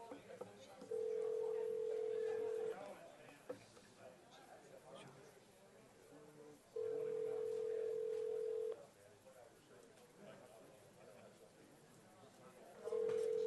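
Conference call telephone line ringing, a steady electronic ring tone sounding in three long bursts of about two seconds each with pauses between, over a faint murmur of background voices.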